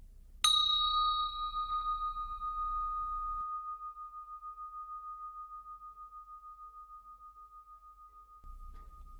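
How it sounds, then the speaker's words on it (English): A single meditation bell is struck once, giving a clear bright ring that lingers as a long, slowly fading sustained tone for several seconds in a quiet room. "simply open your eyes when you hear the bell ring"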